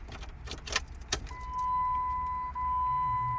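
A Gaze car phone mount for a Galaxy Z Fold3 whirs as it closes automatically, a steady electric motor tone lasting about two seconds after a few clicks and jangling keys inside a car.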